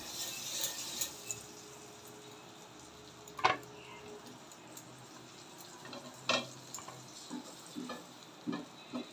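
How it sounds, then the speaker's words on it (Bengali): Pieces of pav bread toast in butter in a pan, with a steady soft sizzle broken by sharp clicks and scrapes as the bread is turned and pressed. "এবার বাটার দিয়ে পাওটা সেঁকে নিচ্ছি।"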